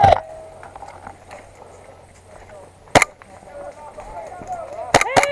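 Sharp airsoft gun shots crack out during a woodland close-quarters game, a lone shot near the middle and a quick pair near the end, with players talking and shouting in between.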